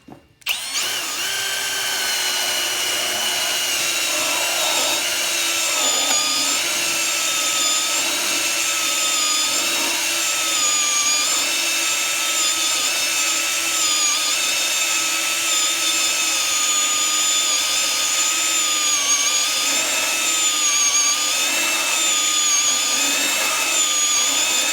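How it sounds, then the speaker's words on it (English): A drill bit bores steadily into wood to seat a rubber body mount on a 1973 Ford F250 4X4, a loud continuous whine that holds nearly unbroken from start to finish with slight pitch wavers. "it's going to drill into the wood"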